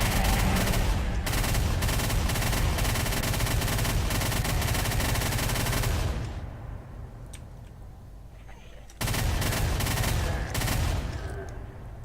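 A chain gun in the video game Brutal Doom 64 fires in long, rapid, loud bursts, stops for about three seconds of quieter game noise, then resumes firing.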